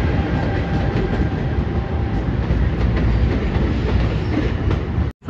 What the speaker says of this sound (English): Well, here goes this train.